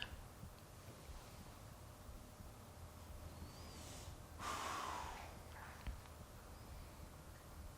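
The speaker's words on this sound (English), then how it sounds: "take a couple moments here to get quiet and to listen to the sound of your breath" Slow, quiet breathing during a yoga relaxation, soft breaths rising and falling against a low background hiss, with one fuller exhale-like swell near the middle and no talking.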